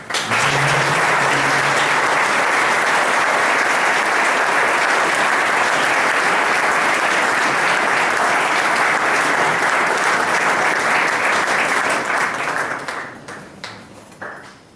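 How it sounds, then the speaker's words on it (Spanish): An audience gives Father Mario Segura warm, sustained applause at a church event. The clapping is dense, loud and steady for about twelve seconds, then thins and fades out near the end. "Reiteramos nuestro agradecimiento al Padre Mario Segura con un caluroso aplauso."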